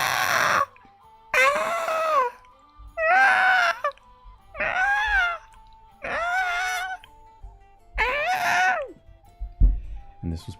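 A person imitates a fox's scream in six separate rising and falling wailing cries, loud and close, with short pauses between them and faint background noise.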